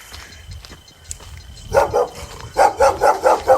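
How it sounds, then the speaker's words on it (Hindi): A village dog barks repeatedly at passing people outdoors, a run of loud close barks in quick bursts after a quieter stretch of ambient noise. "यहाँ पे एक डॉग भी है जो हमको देख के बहुत ज़्यादा भौंक रहा है।"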